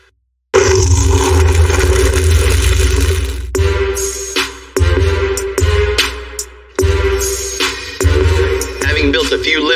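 A lifted Chevy 5500 truck's engine roars loudly and close, held at high revs with repeated brief throttle dips and sharp surges back up.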